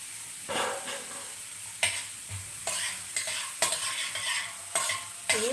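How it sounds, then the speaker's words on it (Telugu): A tempering of spices and dried red chillies fries in hot oil while being stirred in a pan. The sizzle stays constant, with scraping stir strokes coming every second or so, close and clear, with no talking. "బాగా వేగుతూ వేగించాలి"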